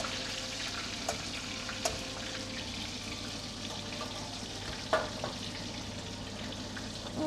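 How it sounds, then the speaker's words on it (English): Chicken deep frying in a pan gives a steady, dense sizzle that fills the whole stretch, with occasional soft clinks and pops and no voices. "That's frying pretty well right now."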